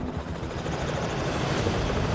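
A helicopter in flight being buffeted, with a dense, continuous rotor and engine roar heard from inside the cabin, loud and steady throughout.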